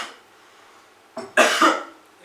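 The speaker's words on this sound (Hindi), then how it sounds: "बस खांसी है।" A man's cough, one short burst followed by a louder, harsher cough, close and alone in a quiet room.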